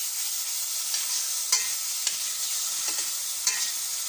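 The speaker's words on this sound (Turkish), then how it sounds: "Kıyma, salça, tereyağı üstüm. Kavuruyorum." Minced meat with tomato paste and butter fries in a pan, giving a steady bright sizzle with a few soft stirring clicks and scrapes, no voices.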